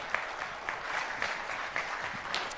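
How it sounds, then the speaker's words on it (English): Steady applause from a church congregation, dense and continuous clapping with a few sharper claps standing out, fairly close and even in loudness throughout. "Give them one more round of applause as they head out"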